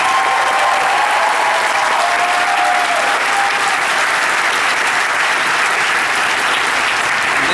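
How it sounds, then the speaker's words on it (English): A large audience applauding a guest at a Star Wars Weekends celebrity stage event, dense sustained clapping and cheering at full volume throughout the whole stretch with no break. "So a huge round of applause for Ashley."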